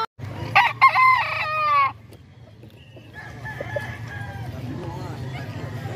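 Rooster crowing loudly and close in a Peruvian-breed chicken yard, a long harmonic crow in the first two seconds, followed by scattered clucking and bird calls with a person talking in the background.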